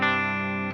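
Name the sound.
guitar through UAFX ANTI amp pedal rhythm channel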